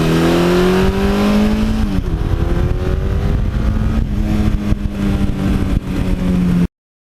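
1982 Suzuki GS1100E motorcycle engine revving loudly and close, a continuous throaty roar with pitch rising and falling through repeated throttle blips, no voices.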